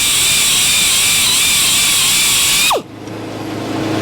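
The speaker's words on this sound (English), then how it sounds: "I can just jump the sharpener forward, set it back down on the next bit" A sharpener grinds a bit on a 56 inch sawmill saw with a loud, high, steady whine that abruptly winds down, leaving a lower motor hum.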